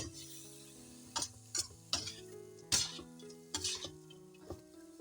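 Bean sprouts and cabbage being stir-fried in a pan, with a soft steady sizzle under sharp, irregular scrapes and clanks of a spatula against the metal, several distinct strikes spread across a few seconds, close by with no talking.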